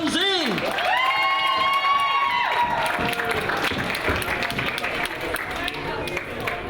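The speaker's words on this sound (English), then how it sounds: "so a big round of applause please for Inshal and Zain." At a school sports and activities colours awards ceremony, an audience breaks into loud sustained applause mixed with cheering and children's shouts, as a voice speaks briefly at the start over the building clapping.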